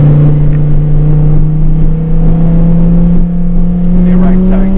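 A Lamborghini Huracan Performante engine drones loudly and steadily from inside the car on a track, its pitch slowly rising as it accelerates.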